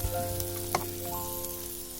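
Button mushrooms and garlic sizzle in butter in a pan, a steady close crackling fry with a brief louder spatter partway through.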